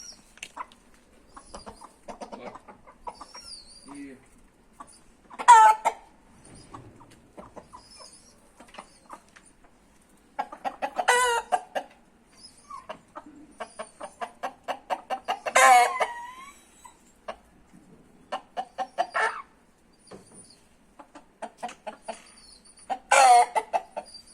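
An Asil (Aseel) rooster calls to its hens in a run of clucking and crowing bursts, loud and close, separated by quieter gaps, with several long crow-like calls standing out over softer fowl chatter.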